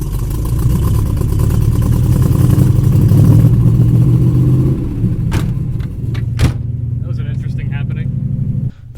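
A Chevrolet Corvette with a 350 engine runs roughly, its loud rumbling idle rising and falling with uneven revs before settling lower, while someone talks over it and a couple of sharp knocks sound near the end.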